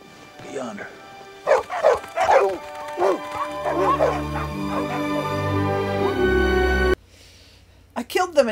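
Dogs yip and bark in quick bursts with whimpering tones, mixed with a person talking over steady background noise.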